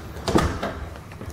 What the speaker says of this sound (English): Here, let me close the door.